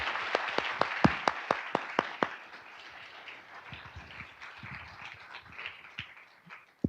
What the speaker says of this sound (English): Let's give another round of applause for our amazing panel